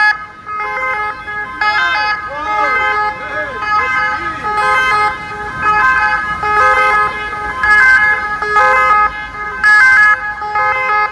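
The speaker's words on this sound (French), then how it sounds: "ces ambulances qui bloquent la circulation" Ambulances blocking traffic on the Champs-Élysées in Paris during a protest, their two-tone sirens wailing loudly and overlapping, with car horns sounding and voices talking over the scene.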